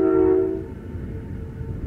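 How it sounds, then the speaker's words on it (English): A passing train sounds its horn in one loud, sustained blast that fades after about half a second into the low rumble of the rolling train. "I wonder why it's honking. Maybe it's another train coming the other way."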